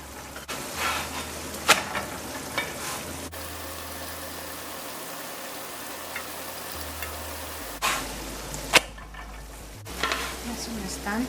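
Squash frying in oil while being stirred, a steady sizzle running throughout with occasional sharp clinks and scrapes of a utensil against the pan, close and moderately loud.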